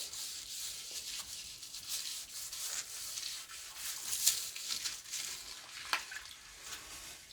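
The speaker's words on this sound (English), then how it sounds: "I'm just going to scrub my toilet" A toilet bowl scrubbed with a brush, soft close bristle swishing in irregular strokes with faint wet scraping, quiet and without talk.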